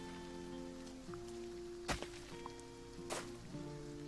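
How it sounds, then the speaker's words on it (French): Steady soft rain hiss from the Farm Together farming game on Nintendo Switch, a continuous even patter under a gentle tonal music bed, with a couple of brief brighter splashes and no talk. "C'est bien, il pleut, comme il pleut, j'ai pas besoin d'arroser."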